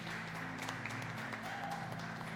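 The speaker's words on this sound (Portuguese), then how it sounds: "Vamos aplaudir ao Senhor com muita alegria?" A church congregation applauds during a Portuguese-language worship service, a steady wash of many hands clapping at an even level throughout, with faint sustained tones beneath.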